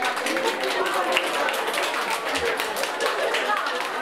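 A crowd at a stand-up comedy crowd-work show claps in a fast, dense patter that holds even and fairly loud from start to finish.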